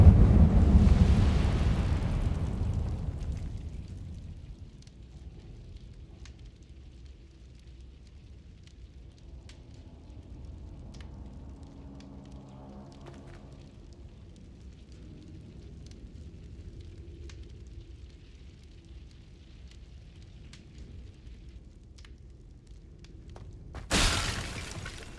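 A fire spell cast in the video game Hogwarts Legacy: a loud whooshing burst of flame at the start that fades into a low, steady rumble, then a sharp brief flare near the end.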